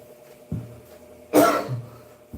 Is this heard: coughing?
yes